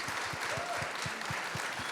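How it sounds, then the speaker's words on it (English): A forum audience in Lancaster County, gathered to discuss outdoor recreation, applauds its speakers with a steady, dense wash of clapping that continues throughout the short moment. "Let's give a round of applause to all of our speakers."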